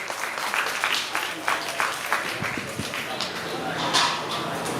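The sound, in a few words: crowd applause at drift event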